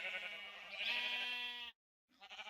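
Sheep bleating in Minecraft: a long, close, wavering baa, then a brief silence and the start of another bleat, clear with no talk.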